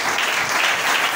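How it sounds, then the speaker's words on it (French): A church congregation claps together during a service, a dense, steady wash of applause that stays loud and even throughout, with no voices on top. "Nous applaudissons pour Jésus-Christ."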